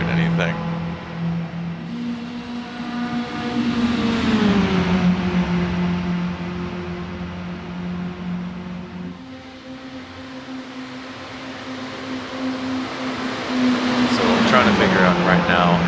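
Mini stock race car engines drone in the iRacing sim, steady pitched tones that shift as the cars bump-draft, with the player talking over the engine hum throughout.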